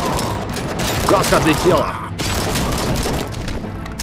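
A grenade blast and gunfire in the game RoboCop: Rogue City, a dense crackle of shots and a boom packed into a few seconds, loud and close, with someone speaking over it.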